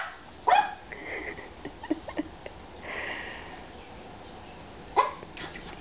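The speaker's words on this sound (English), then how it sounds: "Look at that dog going nuts." A dog at a door sniffing eagerly, with a couple of sharp, excited barks close by, one near the start and another about five seconds in, and softer snuffling between them.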